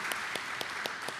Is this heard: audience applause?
yes